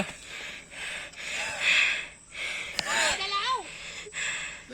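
A human voice imitates the intermittent panting of a modified bicycle exhaust pipe, with rhythmic breathy huffs and gasps and a rising voiced whine, close and fairly loud.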